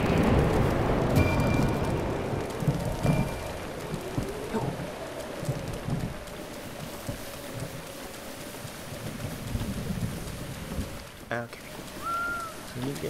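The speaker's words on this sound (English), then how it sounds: "Oh man, it's gonna storm for a while." Steady rain falls during a storm in the video game The Legend of Zelda: Breath of the Wild, a continuous hiss lasting the whole stretch, with a few brief bird-like chirps and soft game tones over it.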